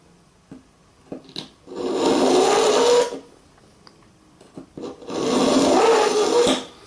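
A blunt kitchen knife is drawn through an Anysharp carbide sharpener in two separate strokes. Each gives a rasping grinding pass of about a second, with light taps and handling clicks in between.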